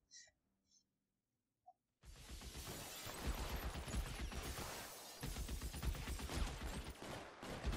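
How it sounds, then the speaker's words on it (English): Gunfire in the 1940s detective game L.A. Noire: after a near-silent opening with faint sounds, a sudden sustained burst of rapid shots erupts and continues loudly, dense and close, to the end. "Why is he firing only at me?"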